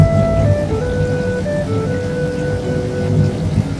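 Steady rain with a low rumble of thunder over farm fields, a dense continuous wash of sound under faint background music tones, no one speaking.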